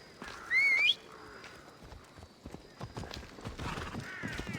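Horse hooves clip-clop in a steady, moderately faint rhythm in Assassin's Creed Odyssey, with a brief loud whistle-like tone near the start.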